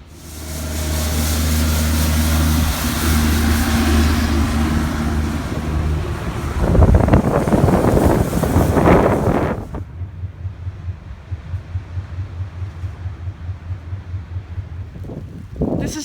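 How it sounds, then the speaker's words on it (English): Strong wind from a November blizzard in Murdock, Minnesota roars and buffets loudly against the microphone in heavy gusts, then drops to a lower, fluttering rumble for the last several seconds. "You can see it's really windy,"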